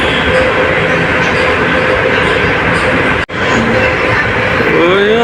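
Train arriving at a station, a loud steady rumble of wheels on rails with clattering carriages, a brief dropout in the middle, and rising squeals as it slows near the end.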